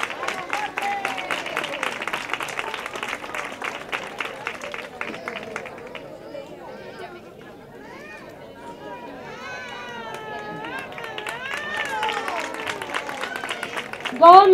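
Audience applause at an end-of-year school graduation ceremony in Almonte, steady clapping from a crowd for several seconds, then fading into chatter and children's voices before a louder burst at the end.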